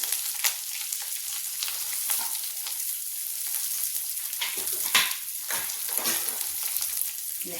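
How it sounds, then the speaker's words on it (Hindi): Chopped onion tipped into hot spiced oil in a pan, a steady, dense sizzle and crackle with a few louder bursts and some stirring, close and continuous with no voices. "अब मसाले पक गए, अब जाएगा प्याज।"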